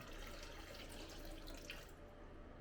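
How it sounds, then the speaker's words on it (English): Water pours from a tap into a container beside a pottery wheel while refilling, a soft continuous trickle with faint drips, fading out near the end; no talking. "Need to refill a little bit of water here."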